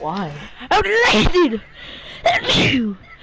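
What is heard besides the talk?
sneeze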